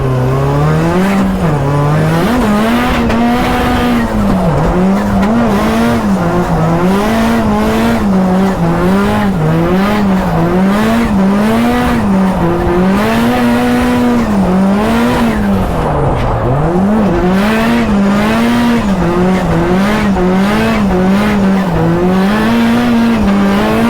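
A 500bhp Mazda MX5 NC drifts hard, its engine droning loud and steady with constant wavering pitch as tires squeal continuously throughout, close and alone.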